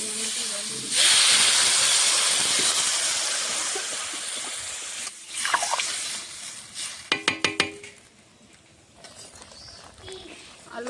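Water is poured into a pan of potato and raw banana masala for a katla fish curry, bursting into a loud hiss of steam that fades, followed by clattering and a quieter simmer.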